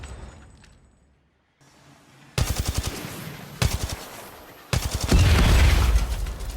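Automatic weapon fire in the mobile shooter Apex Legends Mobile: after a quiet start, loud rapid bursts of gunshots in three separate volleys, close and sharp, the last burst long and dense.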